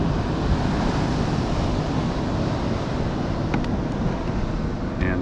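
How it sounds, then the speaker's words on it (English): Big ocean waves break on a shore off Antigua and Barbuda under heavy northern swell, a continuous loud roaring wash mixed with wind noise throughout. "Big waves on the shore."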